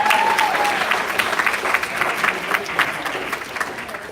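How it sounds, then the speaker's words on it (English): Audience applause at a senate meeting, a steady wash of clapping that stays fairly even and slowly thins toward the end. "let's give everyone just one more round of applause"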